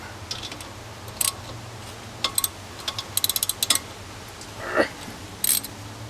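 A hand ratchet tightens brake caliper bolts during a brake and bearing job, giving short bursts of quick metallic clicks spaced across a few seconds, close and fairly quiet, with one rapid run of clicks in the middle.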